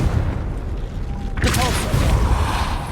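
A Confringo fire spell goes off in Hogwarts Legacy, a single loud, sharp blast bursting out of a low game rumble and trailing into a crackling roar.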